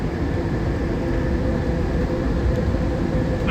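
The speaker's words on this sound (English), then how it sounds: "The train is departing. Please hold on while the train is moving." Newark Airport AirTrain pulling away and running along its track, a steady loud rumble and hum with constant broadband noise throughout and no distinct events.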